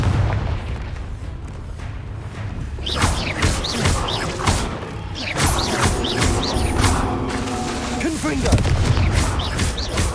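Confringo blasting spells explode in Hogwarts Legacy, a series of booming thuds and crackling bursts repeating through combat, with someone talking over the blasts.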